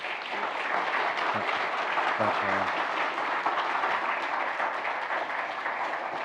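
A church congregation applauds steadily throughout, dense clapping filling the room, with a brief spoken thanks over it.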